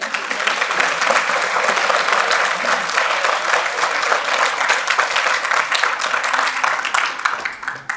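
Loud, sustained applause from the audience at an annual celebration and foster-family gathering in Meerut, a dense continuous wash of many hands clapping at steady intensity that tapers slightly at the very end.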